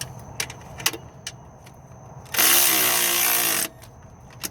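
A 12-volt Snap-on power tool whirs in a single close burst of about a second while tightening an alternator bolt on a 2009 Toyota Corolla. Light metallic clinks and tool handling come before and after it.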